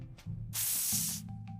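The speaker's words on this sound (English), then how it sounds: "It sprays cleaning liquid." A spray bottle of cleaning liquid gives one sharp, hissing burst of about half a second, close and clear, against a quiet low hum.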